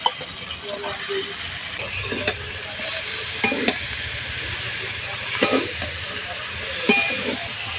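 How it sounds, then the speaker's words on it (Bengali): Cabbage is stirred and fried in a pan, giving a continuous sizzle with intermittent scraping strokes and utensil knocks at close range over a low background rumble. "আমি অর্ধেকটা বাঁধাকপি দিয়েছি এখন এটা নাড়াচাড়া করলেই বাঁধাকপিটা কমে যাবে"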